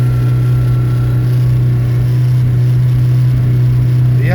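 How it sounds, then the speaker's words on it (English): A Chevy Tracker engine idling high after a cold start in Canadian winter, holding a steady, loud drone throughout with little change in pitch. "And she's gonna rev up, and then she'll slowly start coming down."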